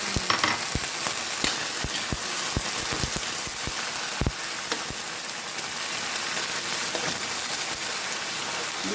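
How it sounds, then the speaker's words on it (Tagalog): Sardines with garlic and onion sauté in a hot pan, a steady, close crackling sizzle with scattered pops and occasional clinks of stirring throughout. "igigisa na natin ng maigi yung bawang at sibuyas"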